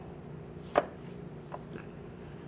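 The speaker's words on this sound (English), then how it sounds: "Cut the apple into 4 bits." A knife chops down through an apple to quarter it for a fruit pie, one crisp close cut followed by two fainter taps on the board in a quiet kitchen.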